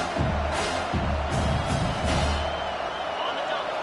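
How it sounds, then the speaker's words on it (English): Stadium crowd roaring in a college football video game, a steady loud wash of noise with a few sharper swells, heard continuously. "The roar of the crowd trying to fuel this defense to keep them pinned in their own end."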